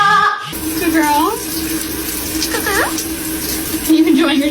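Water from a tap runs steadily as a parrot bathes in a person's cupped hand. The stream is close and loud, and the bird gives short chirps and squawks over it while a person speaks softly.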